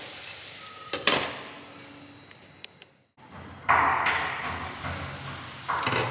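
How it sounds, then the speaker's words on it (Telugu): Cluster beans frying in a pan for a Telugu sesame-spice fry, giving a soft continuous sizzle with occasional stirring scrapes and a metallic ping, a brief quiet gap midway, then louder frying. "ఓ రెండు నిమిషాల పాటు సిమ్లో పెట్టి ఇలా ఫ్రై చేసుకున్నాం కదా"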